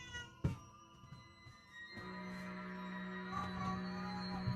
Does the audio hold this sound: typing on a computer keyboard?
no